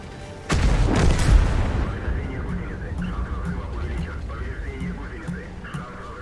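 Cannon fire from the Chinese WZ-113G FT tank destroyer in a tank battle video game: a loud, booming shot with a rumbling tail, followed by steady engine and battle background noise.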